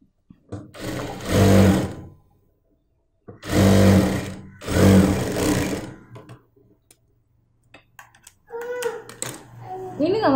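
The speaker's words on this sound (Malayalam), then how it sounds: "അതിനുശേഷം സൂചി കറക്റ്റ് ആ സെൻറ്ററിൽ വെച്ചിട്ട് 1/2 ഇഞ്ചിൽ സ്റ്റിച്ച് ചെയ്യാം." Sewing machine stitching a heavy Patiala salwar seam in three short bursts of rapid mechanical whirring, close and loud, with pauses between and a voice heard near the end.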